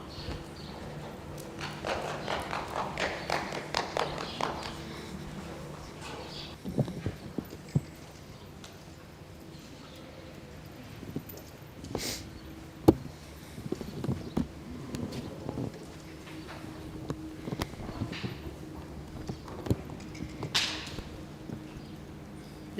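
Horses' hooves clip-clop in steady rhythm on ground at a riding lesson, mostly mid-distance, with occasional louder thuds and an instructor's voice speaking at times.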